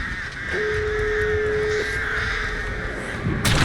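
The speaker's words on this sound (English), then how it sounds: "Because the crows only down you if you are, you know," Crows caw in Dead by Daylight against a humming ambient background: a few harsh calls, one drawn out, and a sharp burst at the end.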